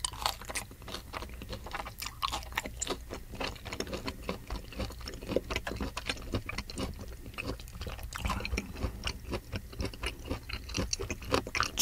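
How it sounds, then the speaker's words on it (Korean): Fresh striped beakfish sashimi is chewed close to the mic, giving soft, wet, squishy bites and smacking in a steady, continuous rhythm with no talking. "요 회를 한번 먹어보겠습니다."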